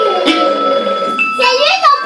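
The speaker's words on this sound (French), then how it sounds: "C'est mon téléphone." A mobile phone ringing with a bright tonal melody, close and loud, mixed with a voice talking over it.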